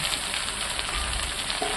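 Mutton and fried potatoes being stirred in a pan, giving a steady, close sizzle with faint scraping throughout, with no voices present.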